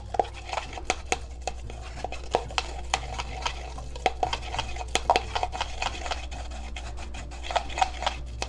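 Essential oil and a solubilizing surfactant are stirred together in a container, producing steady close-up scraping and swishing with scattered light taps of the utensil against the sides. There is no speech.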